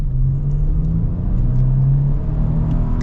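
A modified Nissan GT-R V6 engine revs and accelerates in a deep, loud, steady drone heard from inside the car, with the pitch rising slightly and no talking.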